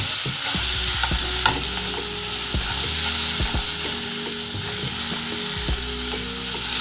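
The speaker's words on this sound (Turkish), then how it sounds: "Ve onu da ilave ettim şöyle kavralım." Washed bulgur roasts in a hot pan while being stirred, giving a continuous loud sizzle broken by repeated knocks and scrapes of the spoon against the pan, close up and without speech.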